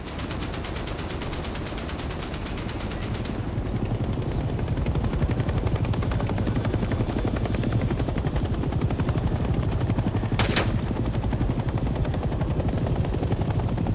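Helicopter from the Vietnam-era shooter Hell Let Loose, a steady rotor drone running throughout with continuous beating low-end texture, growing slightly louder after a few seconds and holding loud to the end.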